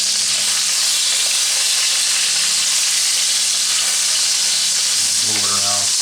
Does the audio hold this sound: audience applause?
no